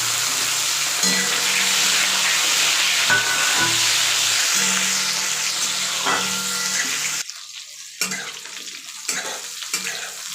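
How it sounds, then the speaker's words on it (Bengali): Pointed gourd (potol) pieces frying in oil in a pan, a loud steady sizzle with stirring scrapes, close up, easing to softer, patchier crackling toward the end. "পটল ভাজা চলছে"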